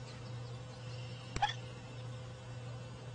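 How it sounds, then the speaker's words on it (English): One brief, faint hiccup from a baby bat, a soft sharp blip that rises out of a quiet room with a constant low hum and no voices. "She had the hiccups. The bat has the hiccups."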